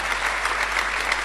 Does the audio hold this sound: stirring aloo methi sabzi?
no